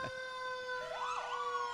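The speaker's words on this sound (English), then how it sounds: "Sirens blaring, letting everyone know the parade is on." Emergency vehicle sirens blare at a small-town parade in Ramsey, Minnesota, with steady high tones and a rising, sweeping wail layered over them, loud and continuous with no talk.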